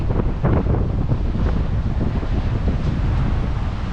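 Strong wind at a campsite on North Stradbroke Island buffets the microphone in a constant low roar with gusty surges, loud and close, with no voices.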